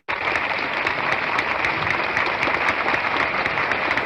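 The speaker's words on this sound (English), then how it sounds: "Standing, applauding." A standing audience at a graduation ceremony applauds, loud dense clapping from many hands starting abruptly and sustaining evenly throughout, close and full with no voices over it.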